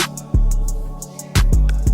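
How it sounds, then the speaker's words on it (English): Vocal passage drenched in a wavy Valhalla Vintage Verb reverb with pre-delay, a low cut and slight high cut, heard alone in a Gunna-style vocal chain; sharp attacks around a third of a second and one and a third seconds ring out into a lingering wash. "That reverb sound like this by itself."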